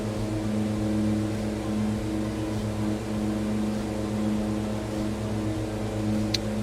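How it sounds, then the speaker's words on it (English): Steady, loud engine drone of a light aircraft in flight on a scenic route over Victoria, Australia, with strong low harmonic tones and no pauses, carrying on alone throughout. "I will turn those external engine sounds down because it's very, very noisy"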